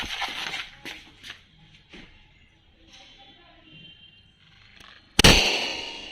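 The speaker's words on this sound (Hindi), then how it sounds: "बहुत खतरनाक बीड़ी बम है यार" A bidi bomb firecracker goes off outdoors with one sharp loud bang near the end, after quieter rustling, scattered thumps and people talking nearby.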